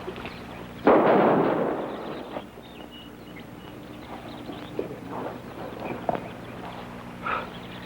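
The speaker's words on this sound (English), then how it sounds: "That was quite a shot" A single loud gunshot rings out in an old western town scene, a sharp burst with a decaying tail, followed by quieter scattered sounds and faint movement.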